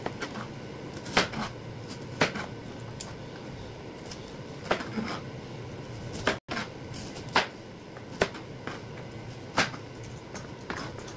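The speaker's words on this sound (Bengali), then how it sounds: "ততক্ষণ আমি ফুলকপিটা কেটে দেবো" A knife chops through cauliflower on a board in a home Bengali kitchen, with sharp single cuts landing at irregular intervals about a second apart, close and fairly quiet against low room noise.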